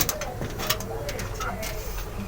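Racing pigeons coo softly and repeatedly at close range, with faint chirps and a low background hum.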